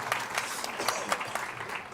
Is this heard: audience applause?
yes